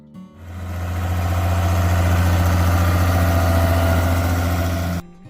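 An International Harvester 966 tractor engine idles steadily and close by, a deep low throbbing rumble that holds even for about five seconds before cutting off abruptly.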